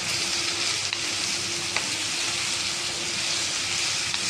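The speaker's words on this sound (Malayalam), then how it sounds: "ഒരു 4 ചുമന്ന സവോള അത് ഇട്ട് നമുക്കൊന്ന് വഴറ്റിയെടുക്കാം" Sliced red onions sizzle in hot oil as the base for a squid fry, a dense, even frying hiss that stays close with only a couple of faint clicks and no voices.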